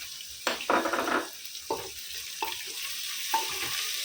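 Two chopped onions going into hot oil for a Kokani-style fish thali, with a steady sizzle and a few bursts of stirring scrapes in the pan, fairly close and with no one talking.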